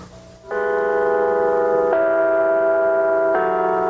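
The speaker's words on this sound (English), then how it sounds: "Through a community effort, Westminster chimes strike once each hour and Carillon bells play twice each day." Westminster chimes ring out across Juneau, Alaska: a loud, sustained sequence of bell tones, each note blooming and ringing on as it shifts to the next, with no voices over them.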